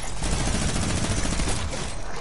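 Shotgun fire in a video game, dense, loud, continuous blasts with heavy low boom, packed tightly through the short stretch with no pauses.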